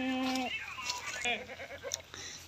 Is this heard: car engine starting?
no